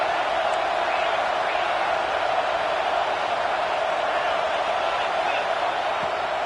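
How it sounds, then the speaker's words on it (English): Crowd at an Oregon college football stadium roars in a steady, dense wash of cheering that holds at a constant level throughout, with faint scattered whoops. "This crowd knows when to bring it."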